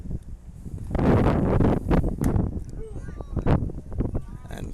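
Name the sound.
wind blowing at a baseball game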